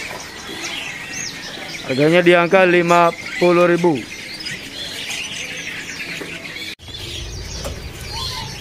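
Birds call at a bird market, with a spotted dove (tekukur) among them: two bursts of loud, close, harmonic calls stand out over a background of faint chirps, while someone talks nearby.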